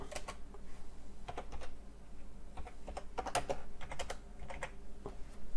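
Text is typed on a computer keyboard in Pinnacle Studio, with quiet, irregular key clicks in short bursts and pauses, close up and with no talking.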